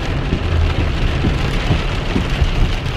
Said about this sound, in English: That's rain on the road.